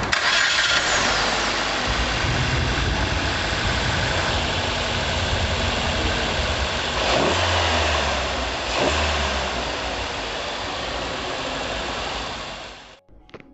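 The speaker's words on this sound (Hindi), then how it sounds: "इंजन का आवाज़ किस तरह होता है तो चलिए सुनते हैं" A 2020 Maruti Suzuki Vitara Brezza ZXi engine turns over and settles into a steady, loud idle with a few revs, running continuously before cutting off abruptly at the end.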